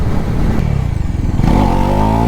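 A Bajaj NS400 motorcycle with an SC Project exhaust rumbles loud and close, its engine throbbing unevenly before climbing into a sustained, rising rev.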